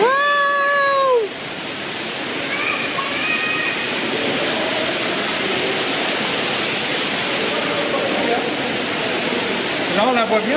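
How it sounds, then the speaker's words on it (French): A waterfall inside the Montreal Biodome pours as a broad, steady wash of rushing water, loud and continuous, while high animal-like calls and a voice rise briefly over it. "Là, on la voit bien, la chute d'ici."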